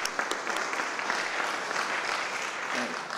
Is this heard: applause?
yes